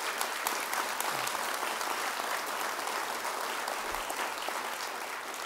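An audience at the J-98 2012 Fall Dream Team Awards applauds steadily for the Dream Team. The clapping is a dense, even wash that holds for several seconds without a break.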